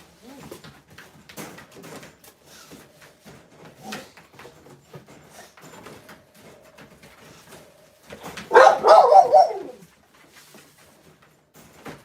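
Dogs at feeding time give scattered soft yips and clatter at first, then burst into a loud close run of barking for about two seconds before settling again.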